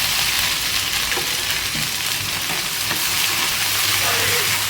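Crushed green chilli and garlic thecha frying in hot oil after a mustard seed tempering, a dense, loud, continuous sizzle with steady hiss and faint stirring scrapes throughout.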